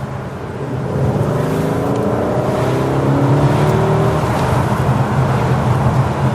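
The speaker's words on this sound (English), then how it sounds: "That race-ready rumble comes from the 4-litre twin-turbo V8 that Aston has borrowed from Mercedes for this car." Aston Martin DB11 Volante with a 4-litre twin-turbo V8 from Mercedes, deep exhaust rumble building as the engine revs up, loud and close, then holding a strong steady drone with no talk.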